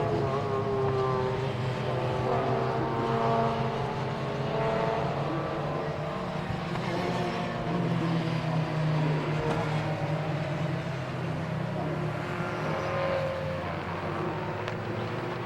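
Race cars at Silverstone's Club Corner, circulating in a pack behind the safety car: a steady, continuous engine drone with overlapping tones rising and falling as the cars pass, loud and filling the whole clip without a break.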